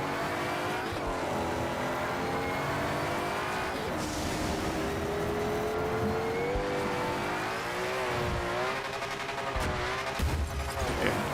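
A rally car engine in the racing game V-Rally 4, revving hard with steady high-pitched harmonics that climb and dip through gear changes, along with bumps and gravel noise, loud and continuous.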